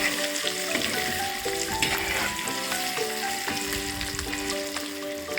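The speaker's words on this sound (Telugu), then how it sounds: "ఫస్ట్ ఎగ్స్ని అయితే ఫ్రై చేసుకుంటాము బాగా." Eggs frying in a pan with chili powder, salt and turmeric, a dense continuous sizzle with stirring scrapes, close and loud with no pauses.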